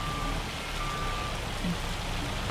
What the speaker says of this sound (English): Oh look, the hail is back.